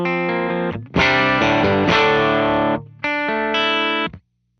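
Electric guitar through a Warm Audio WA-C1 chorus/vibrato pedal, played with distortion: sustained strummed chords in three phrases with brief gaps, loud and close, no talking.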